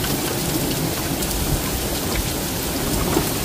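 Heavy rain pours steadily during a thunderstorm in Cheltenham, Gloucestershire, a dense continuous hiss with low rumbling thunder underneath, heard up close with no talking.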